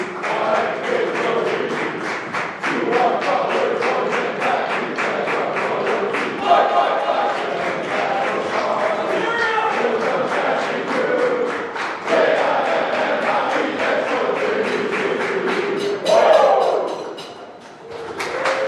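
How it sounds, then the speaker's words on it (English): A banquet room of University of Jamestown athletes chanting the Jimmy fight song together, a loud rhythmic group shout with regular beats and claps that runs throughout, with a few louder cheering bursts near the end. "we're going to start the Jimmy Fight song here"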